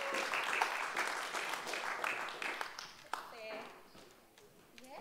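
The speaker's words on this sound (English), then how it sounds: "we'll just give him a quick round of applause when he's coming" A room full of people claps loudly in a quick round of applause as a guest comes up to the front at a gathering; the clapping fades after about three seconds and a voice starts talking near the microphone.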